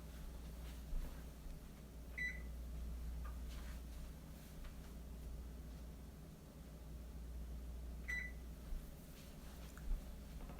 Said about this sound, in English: I'm gonna turn off my oven